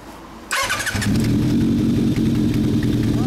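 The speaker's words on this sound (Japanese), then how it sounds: "エンジン聞かせてもらえますか" A 2003 Kawasaki ZRX1200S motorcycle engine cranks and fires up, then settles into a loud, steady, throbbing idle close by.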